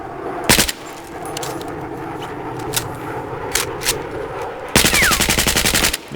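Video game gunfire strafes the dirt, a short burst early, scattered impact pops in between, then a long rapid machine-gun volley near the end, loud and close.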